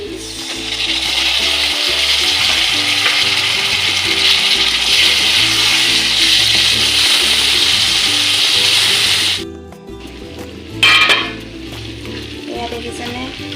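Tomatoes and two green chilies frying in a pan with turmeric, a loud steady sizzle that suddenly drops near the end, followed by a brief clatter of stirring.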